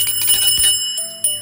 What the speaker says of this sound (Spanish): es una campana así como muy vintage